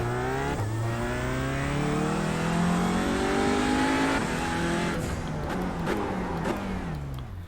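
A TCR touring race car in a racing video game at Watkins Glen, its loud engine note sliding steadily downward as the driver lifts off the throttle, with a faint tire scrub near the end.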